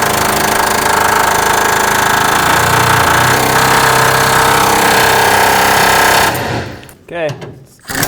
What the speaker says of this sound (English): I'm going to use my air hammer and just try to drive this bolt through